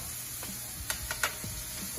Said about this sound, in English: So I'm gonna let that sizzle for a little bit